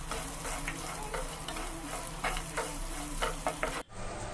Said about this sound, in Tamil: இதில் 7லிருந்து 10 போல் சின்ன வெங்காயத்தை கட் பண்ணி சேர்த்துக்கலாம்.